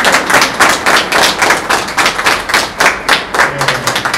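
Loud, close applause for the children at a social housing handover ceremony, steady rhythmic clapping from a small crowd sustained throughout with no talk.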